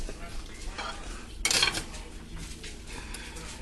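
Pot roast being served onto a plate, with soft clinks and scrapes of utensil against dish and one louder clatter in the middle, fairly quiet and close.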